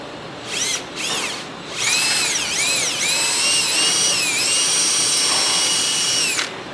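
A power drill boring into a Tesla coil base, whining in two short bursts and then running steadily for several seconds with pitch sweeps as the load changes, loud and close.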